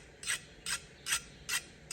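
A steel file rasps across a hardened Damascus brisket knife blade, five short scraping strokes in an even rhythm, close and fairly quiet.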